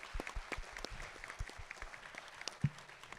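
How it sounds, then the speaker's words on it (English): A campus audience at a new student orientation claps in scattered, uneven bursts, individual hand claps standing out near and far against a low murmur, fairly light and thinning toward the end. "So clap it up for that."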